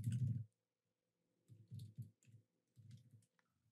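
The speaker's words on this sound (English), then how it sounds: "Then I type in my laptop model name" Laptop keyboard typing as a model name is entered into a search box: a burst of quick clicks, a pause, then several short clusters of keystrokes, close and fairly quiet.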